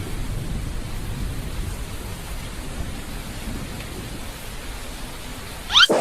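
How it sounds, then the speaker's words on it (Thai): Steady rain pours down with an even, hissing wash of sound, ending in a brief sharp noise. "เสียงฝนตก"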